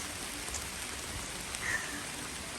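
Rain falls steadily along the Appalachian Trail, a dense, even hiss of drops on surfaces that stays constant and moderately loud throughout, with no voices.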